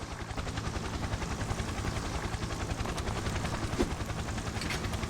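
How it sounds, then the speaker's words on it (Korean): A helicopter arrives in a video game, its rotor thumping in a fast, even rhythm throughout at a moderate distance, with a faint sharp pop partway through and no speech. "아, 헬기 와버렸네."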